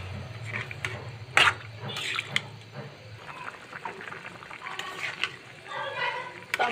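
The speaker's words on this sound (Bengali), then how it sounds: "এখন আমি পরিমাণ মতন পানি দিয়ে দেবো।" Water pours into a pot of desi chicken and potato curry, sloshing and splashing unevenly in short bursts close by, with some clatter.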